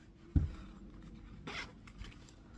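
A zipper on a stationery pouch opened by hand, one short sharp pull near the start followed by a softer second zip run a second later, close and alone in a quiet room.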